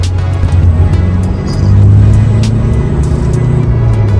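Remapped 1.9 diesel pickup engine, a 2020 model, revving under light throttle in a steady close-up rumble that swells slightly midway, with no voices over it.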